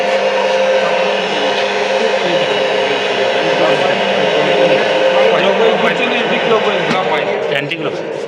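An induction motor runs steadily, spinning clockwise, with a loud, even electrical hum and whir held for several seconds, while people talk over it nearby.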